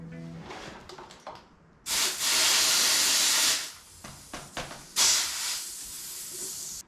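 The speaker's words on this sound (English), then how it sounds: "compressor is ready to go" An air compressor inflating a tubeless mountain bike tire, heard as two loud, sustained rushes of hissing air, each lasting a second or more, separated by short scrapes and clatter.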